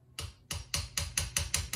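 A claw hammer taps a Buell motorcycle wrist pin during an engine rebuild, giving seven or eight sharp metallic knocks at a quick, steady rhythm, close and clear with no talk.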